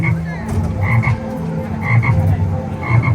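Frog croaks repeat in a steady pattern of paired calls over a busy indoor hum at a chocolate frog candy shop in a theme park, loud and close.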